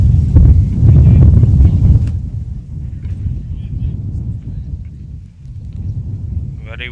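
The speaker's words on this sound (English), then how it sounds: "Very windy today in Bratislava for game 1 of Friday's program" Strong gusts buffet the microphone at an outdoor baseball game in Bratislava, a heavy low rumble that peaks early and keeps roaring under a commentator's voice.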